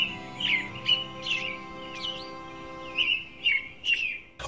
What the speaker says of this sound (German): Und vielleicht, je nach Wetter, noch das Zwitschern der Vögel